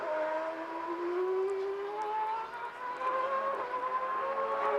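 Formula 1 cars from Ferrari and Williams racing at the 1995 Argentine Grand Prix, their engines a loud, continuous high whine that climbs in pitch through the gears as the cars power along the circuit.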